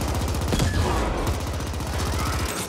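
Rapid submachine gun fire in The Ascent, a fast, even stream of close, loud shots chattering without pause across the whole stretch, with faint speech barely present.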